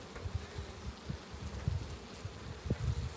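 Honey bees buzz softly on a full hive frame during an April hive inspection, a low, faint, fluttering hum with small irregular swells.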